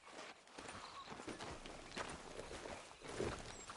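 Horse hooves clopping at a walk in a PlayStation 4 video game, a steady, soft plodding rhythm over a faint outdoor ambience, fairly quiet and with no talk over it.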